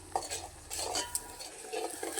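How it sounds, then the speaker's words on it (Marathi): Masala frying in oil for katachi amti, a spoon scraping and clinking against the pan in irregular strokes over a low sizzle, close and moderately quiet. "आणि तेल सुटेपर्यंत ह्याला व्यवस्थित तेलावर फ्राय करून घ्यायचा."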